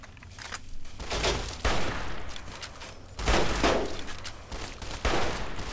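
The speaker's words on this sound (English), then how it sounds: "Try the rifle again" A rifle fired in Fallout: New Vegas during the Old World Blues add-on, heard as several loud, sharp bursts of shots spaced about a second apart, each with a booming low end and ringing tail.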